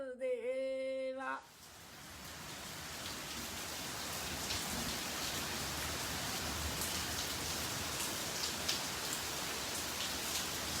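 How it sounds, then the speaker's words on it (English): Heavy rain pours steadily in Vrindavan, a dense, even hiss of drops that runs continuously for about nine seconds after a short burst of tonal music at the start. "It is really raining,"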